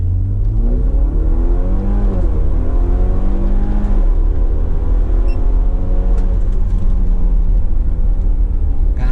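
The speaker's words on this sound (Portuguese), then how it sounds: "Pé direito no acelerador até no talo." A BMW 320 GT launches at full throttle on a 0-100 run, its engine revving hard with rising pitch through several gear changes, loud and close throughout with no speech.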